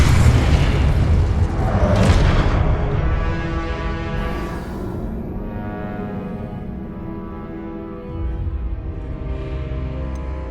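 A Confringo blasting spell explodes in the Hogwarts Legacy video game with a loud, booming burst that rolls into a long, fading rumble over a steady background score.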